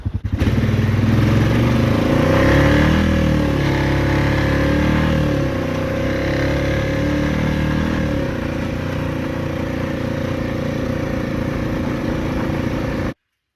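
A 2021 Honda Rubicon 520 DCT EPS ATV engine running steadily nearby, a loud continuous idle with a brief rise in revs early on, then holding an even rumble until it cuts off abruptly.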